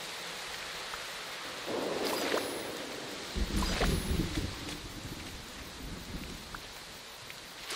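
Steady rain falls in Disney Dreamlight Valley, a soft, even hiss of drops with a couple of brief louder swells partway through, and nobody speaks over it.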